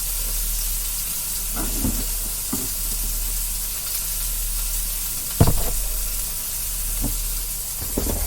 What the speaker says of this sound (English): In my sauce pot now, I'm also going to add that can of tomatoes that I had open. I'm going to add the peppers.